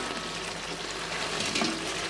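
Fried chicken pieces are stirred into a thickened chilli chicken sauce in a pan, giving a continuous close sizzle and wet bubbling with soft stirring noises and no talk.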